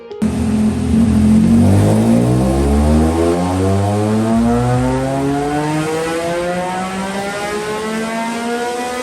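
A motorcycle on a dyno during a Woolich Racing tuning run revs hard and loud, its engine note climbing steadily through the gears for several seconds before settling into a sustained high drone.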